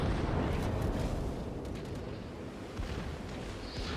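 A warship blows up in the naval combat game World of Warships, a sustained loud rumbling blast with dense low booms and crackling debris that rolls on steadily throughout.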